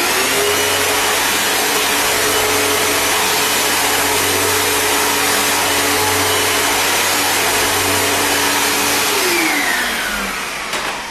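A Kenmore upright vacuum cleaner runs with a loud, steady motor whine and airflow roar held close, then winds down slightly at the end, with no talking.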